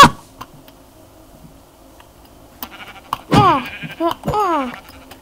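Sheep in the Minecraft video game bleat in several short wavering calls, clustered in the second half after a quiet stretch of faint game ambience and small clicks, fairly close and clear.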